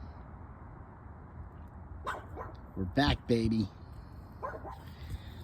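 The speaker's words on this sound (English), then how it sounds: "Back to walking the dog." A dog out on a walk gives a few short barks and whimpers mixed with a person talking nearby, the sounds coming in brief bursts over steady outdoor background noise.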